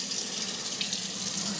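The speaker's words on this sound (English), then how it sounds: "Go ahead and add some water to it." Tap water pours steadily into a kitchen sink fitted with an InSinkErator Badger 3/4 garbage disposal, a close, continuous splashing rush with no voices.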